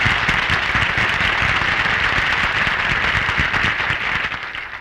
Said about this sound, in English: Why did you just give him applause?